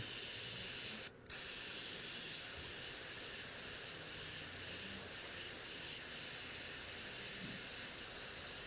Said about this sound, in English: we will go over here and mist some more flesh tone over that to fill that area in